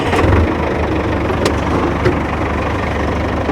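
A farm machine engine runs at a steady idle in a Swiss cow barn during installation of a new hay crane, a continuous low rumble with a brief rise at the start and a couple of faint clicks.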